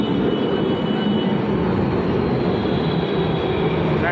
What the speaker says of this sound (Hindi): मेरी मेट्रो आ गई है।